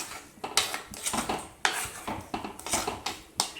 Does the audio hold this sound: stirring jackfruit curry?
yes